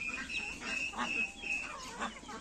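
Chickens cluck and chirp in a farmyard courtyard, short high calls repeating irregularly at moderate distance over a faint background.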